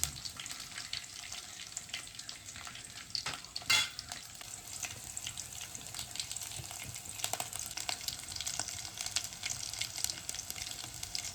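Green chilies frying in hot oil in a pan for a spicy Kokan crab curry: a steady, dense crackling sizzle with stirring, one louder burst near the start, and no voices.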